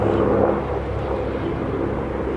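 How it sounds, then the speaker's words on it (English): Helicopter passing over a patio garden, a steady low rumbling drone that fills the background evenly for a couple of seconds, with no talking. "I'm sure you can hear the helicopter just moving through"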